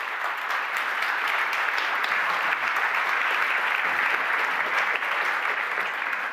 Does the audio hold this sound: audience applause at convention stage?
yes